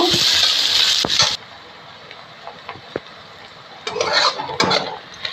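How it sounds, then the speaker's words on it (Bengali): Onions fry lightly in a pan with bursts of sizzling, then quieter stretches marked by sharp clinks and scrapes of a spoon stirring against the metal. "পেঁয়াজগুলো হালকা ভেজে নেব।"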